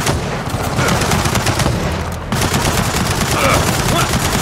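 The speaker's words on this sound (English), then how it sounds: "Don't let that turret pin us down!" Mounted turret in Gears of War 4 rattling off sustained rapid fire, a dense continuous burst that briefly dips mid-way before resuming just as loud, layered with battle noise.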